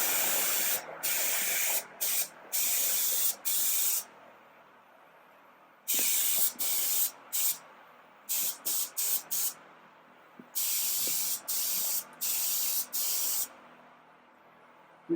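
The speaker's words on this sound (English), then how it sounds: "I'm going to go ahead and spray the top" Spray gun laying two-part Cerakote onto Yamaha Banshee front shock parts, in repeated loud bursts of hissing spray, each lasting about a second, broken by short pauses with quiet background.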